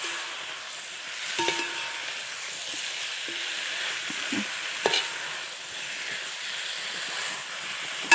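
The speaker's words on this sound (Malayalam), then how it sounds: "നന്നായിട്ട് നമ്മളിത് യോജിപ്പിക്കുക." Chicken curry is stirred and fried in a pan, giving a steady hissing sizzle with intermittent stirring scrapes and clinks. It is close and moderately loud, with no speech.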